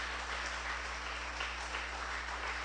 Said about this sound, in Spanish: Denle un aplauso al Señor y denle un aplauso por esa iglesia que Él ha rescatado.